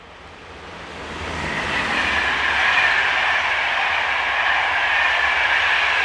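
An empty stone train hauled by Euro 4000 diesel locomotive number 4052 approaches, its rumble and wheel noise swelling over the first two seconds, then holding as a steady, close roar.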